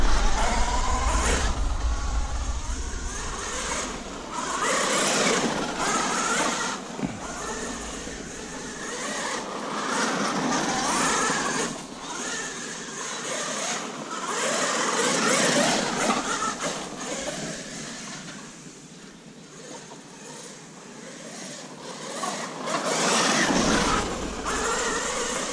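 A Losi Super Baja Rey 2.0 RC truck drives and slides continuously, its whining motor rising and falling with creaking, rattling mechanical noise over a long stretch, close and fairly loud.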